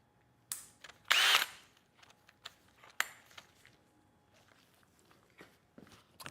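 A spider hole saw cuts through birch in a van build, giving a brief, loud burst of drilling with a bright grinding whine. Scattered knocks and clatter follow, with quiet gaps in between.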